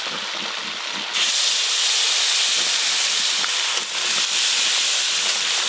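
Masala paste hits hot oil already tempered with whole garam masala, and a quiet background bursts into a loud, sustained hissing sizzle that stays strong, with a brief dip before surging again.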